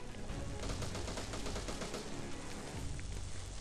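Gunfire from the Wii U action game Devil's Third, a dense, continuous rattle of shots packed into a steady wash of noise, sounding somewhat distant and muffled throughout.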